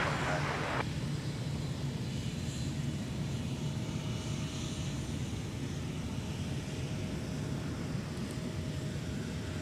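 A Cessna Citation XL private jet at Minneapolis–St. Paul airport gives off a steady, loud, broadband engine roar that holds evenly throughout, heard from a moderate distance among airport surroundings.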